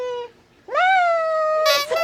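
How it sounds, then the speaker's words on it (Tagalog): A cat meows loudly and close by, one short call, then a long drawn-out meow, with a brief noisy rustle near the end. "Ang daming pusa dito na."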